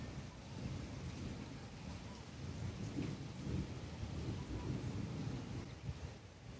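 A thunderstorm in the countryside brings steady heavy rain with low rolling thunder rumbling continuously underneath, fairly distant and even in loudness throughout.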